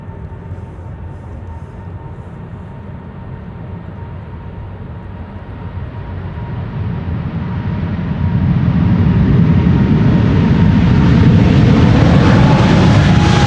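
A Boeing 777 freighter with General Electric engines roars steadily at Schiphol Airport, its broadband jet rumble building louder over the course of the passage as the aircraft approaches, with no talk.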